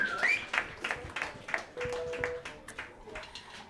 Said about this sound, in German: Ein Applaus für Theresa.